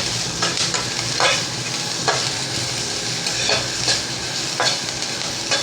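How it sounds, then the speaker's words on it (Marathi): Green chillies sizzle and crackle steadily in a hot pan on high heat, with occasional scraping stirs, loud and close with no talking. "हे सर्व असं व्यवस्थित भाजून घ्यायचं आहे। ह्या मिरच्या पण ह्याच्यामध्ये घालते मी"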